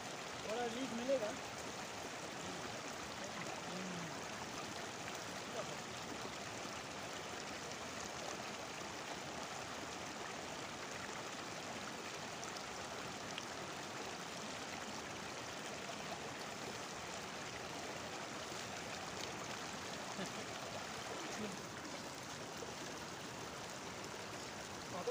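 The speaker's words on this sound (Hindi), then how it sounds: "आज बड़ी मुद्दतों के बाद नाले में पानी उतरा" Water flows in a mountain stream running through grazing fields, a soft continuous rushing babble heard at a distance, steady and unbroken throughout.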